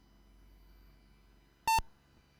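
PC speaker beep from the MS-DOS game Alien Trilogy, played through a sound card: one sharp, loud electronic tone lasting about a tenth of a second over a quiet background hum.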